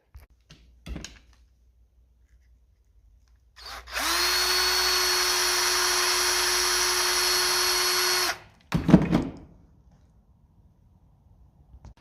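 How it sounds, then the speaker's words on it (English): A Dremel rotary tool fitted with a small brush whines steadily for about four seconds while cleaning a 1956 Lucas D3A4 Ferguson distributor, with a clunk before and a clatter of handling after. "This is where you can get your Dremel with your little brush and give it a go there"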